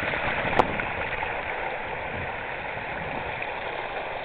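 Water churns and rushes steadily in a sailboat's wake on the Neuse River, a continuous broadband wash close behind the stern with one brief splash near the start.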